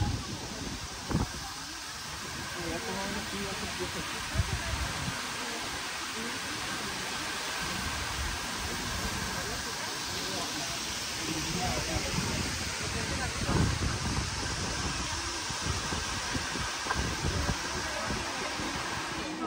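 Broad steady roar of the Cola de Caballo waterfall near Monterrey, Mexico, with water plunging into the pool below, a constant wash of noise lasting throughout with no breaks and faint voices now and then.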